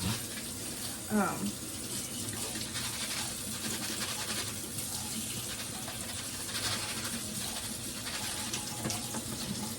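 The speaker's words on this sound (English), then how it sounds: "But basically, I just give my beans a little rinse, like that." Dry beans are rinsed under a running kitchen tap, with a steady, close wash of flowing water and occasional splashing shifts.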